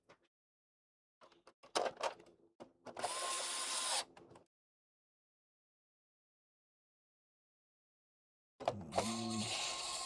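Screws being driven back into a games console or computer case during a repair, heard as short bursts of whirring driver noise and clicks, then a gap of silence before another loud burst near the end.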